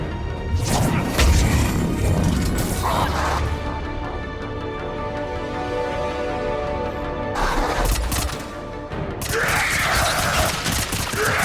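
Heavy, dense volley of gunfire and crashing impacts from a Mass Effect battle on Omega, loud and sustained for most of the stretch with sharp bursts near the start and again toward the end.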